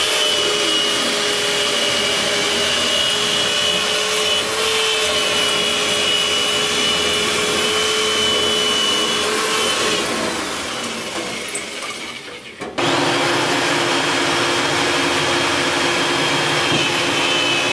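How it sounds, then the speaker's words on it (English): A loud, steady roar of a powerful central vacuum suction motor used for air duct cleaning runs continuously, dips briefly near the end, then resumes at full strength. "The central vacuum provides suction for the system."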